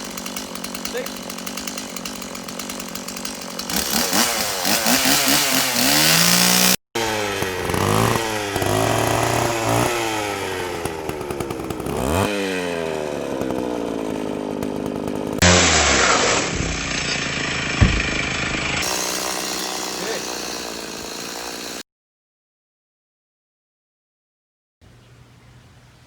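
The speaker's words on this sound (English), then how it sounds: "Okay, chainsaw time." A chainsaw running loudly during a DIY raised koi pond build, its whining engine rising and falling in pitch as the throttle revs, cutting out abruptly near the end after a long stretch of steady noise.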